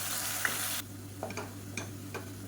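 Onion paste sizzles in a hot pan, a soft steady hiss with a few light crackles and scraping sounds.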